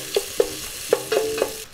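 Onions sauté in a pan, making a close, steady sizzle with several sharp clinks and scrapes of a utensil against the pan in quick, uneven succession.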